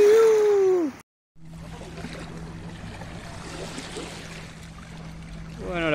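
Small fishing boat motoring along a swollen river in the Paraná islands, with a steady low outboard engine drone and water wash running throughout after a brief cut, while a voice speaks at the start.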